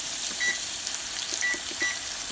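Kitchen timer giving short high beeps, three separate chirps spaced irregularly over a steady background sizzle of steak frying in a pan.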